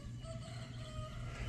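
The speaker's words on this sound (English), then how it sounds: "Dang, that's a big old chicken right there." Chickens in a homestead flock being fed fish, with steady clucking and crowing-like calls continuing close by throughout, no one speaking.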